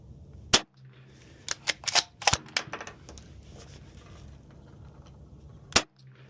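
A Savage 220 bolt-action turkey shotgun fires at an outdoor range, with two loud sharp blasts near the start and end and a cluster of quicker, lighter cracks and clicks in between.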